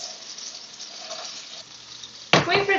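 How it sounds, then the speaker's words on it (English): Butter melts and sizzles in a heated pan for chicken tikka masala, a soft steady crackle that gives way to a sudden louder clatter and stir near the end. "Wait for the whole butter to melt around in there."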